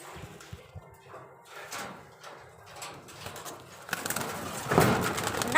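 Pigeons cooing softly in a loft, low murmuring coos near and far amid rustling and shuffling, with louder scraping noise toward the end.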